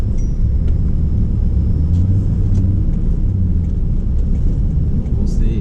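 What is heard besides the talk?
Toyota Tundra truck engine pulling up highway hill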